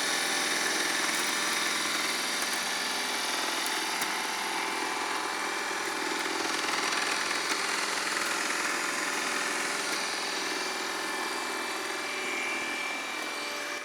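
Milwaukee cordless hedge trimmer with an oscillating head cutting an overgrown hedge, a steady high-pitched mechanical buzz with slight vibration, close, loud and unbroken throughout.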